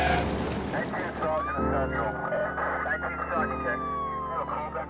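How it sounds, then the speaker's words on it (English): An ambulance siren wails in long sweeping tones beneath a steady rumble, with people talking over it. "Move aside, let the ambulance through."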